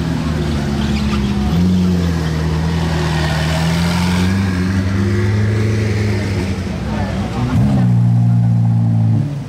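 Aston Martin Valkyrie on a road, fitted with a non-original exhaust, its engine holding loud, strong tones that climb and drop in revs, close and continuous, with a voice speaking over it.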